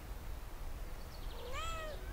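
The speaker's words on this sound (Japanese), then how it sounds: "猫や。" A cat in the video game Brothers: A Tale of Two Sons gives a single rising-then-falling meow near the end, faint and fairly close, over a steady low background hum.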